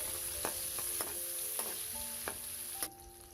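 Onion and chili lightly frying in a pan for a bitter gourd stir fry with dried shrimp: a steady close sizzle broken by several sharp spatula scrapes and clinks against the pan, with no talk.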